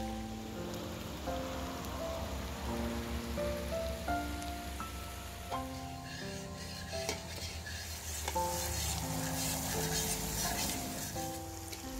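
Wet ground spice paste sizzles and crackles steadily as it is sautéed in oil for Malaysian mi rebus with beef bone broth, up close and continuous, with background music playing throughout.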